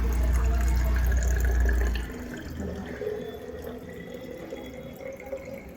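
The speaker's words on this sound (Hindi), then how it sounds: "थोड़ा पानी डाल देते हैं।" Water pours and splashes heavily for about two seconds, then trickles and drips quietly amid soft household background noise.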